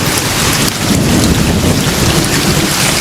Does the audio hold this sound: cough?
no